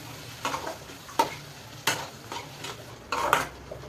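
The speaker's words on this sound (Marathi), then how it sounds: "त्यामध्ये हा भेजा टाकायचा आणि तो चांगला मॅश करायचा" Goat brain being mashed in a frying pan with spices over low heat: a quiet, steady sizzle with several sharp scraping thumps of a spatula against the pan, no voices.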